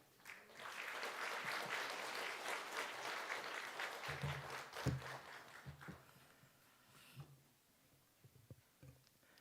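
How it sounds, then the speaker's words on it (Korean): A church congregation claps warmly for a guest missionary who has travelled from Malaysia, filling a sanctuary with dense, sustained applause for several seconds before it thins into scattered claps and quiet shuffling. "나오실 때 박수를 한번 해주시죠."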